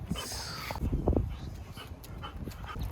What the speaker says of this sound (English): Fucking dog. Wants to run.